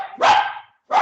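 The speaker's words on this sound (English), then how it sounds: "the dog got curious and excited" A curious, excited dog barks close and loud, two sharp barks with a brief gap between them, no talk.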